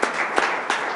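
Brief burst of audience clapping at a Rochester Board of Education special meeting, a steady patter from a small room crowd lasting about a second.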